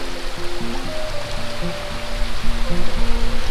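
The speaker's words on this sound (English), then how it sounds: "right now it's just started raining, and it's raining kind of hard" Hard rain falls outdoors on a hiking trail in Cleburne State Park, Texas, a dense steady wash of patter close by, with a low rumble underneath and no talking.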